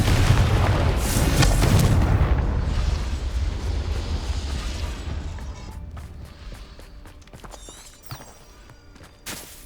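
A Confringo fire spell explodes in Hogwarts Legacy, a heavy booming blast that rumbles and fades over several seconds, followed by scattered crackling debris and small impacts.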